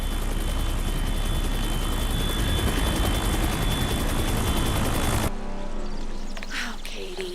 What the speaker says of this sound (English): Now land my chopper.